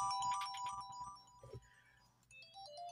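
A mobile phone ringtone plays as a looping electronic melody of bright steady tones, fairly loud and close, pausing briefly mid-clip before the tune resumes.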